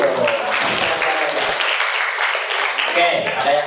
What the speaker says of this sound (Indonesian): Bagus, tepuk tangan dulu dong.